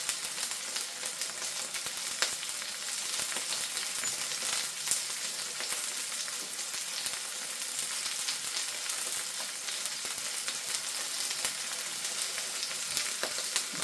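Potatoes and steak fry in a pan with a steady, even sizzle and crackle, close and continuous throughout, with occasional small pops.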